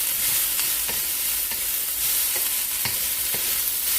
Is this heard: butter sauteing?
yes